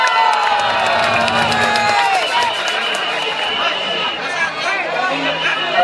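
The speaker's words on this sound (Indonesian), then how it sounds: "Tepuk tangan yang meriah." A festive street crowd cheers and claps at a temple procession celebration, a loud continuous wash of applause, shouts and chatter from many people.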